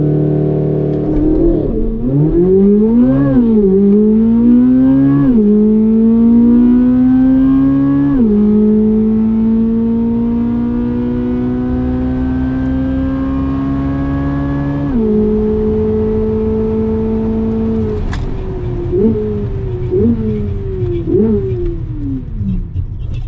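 A 2023 Corvette Z06 roars loud and close during a 0-150-0 run, its engine pitch climbing through several upshifts, dropping at each gear change, then winding down as the car slows.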